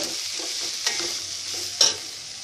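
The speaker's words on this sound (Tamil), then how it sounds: "நல்லா வறுத்துக்கோங்க." Cauliflower and onion sizzle steadily in hot oil for a restaurant-style vegetable pulao, with two sharp scrapes of a stirring spoon against the pan cutting through the constant frying hiss, close by and without talk.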